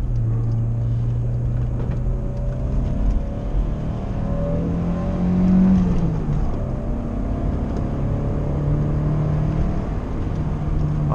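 A Citroën BX GTi 16-valve engine drones and rises in pitch while driving, steady and close, with revs climbing and easing through a bend.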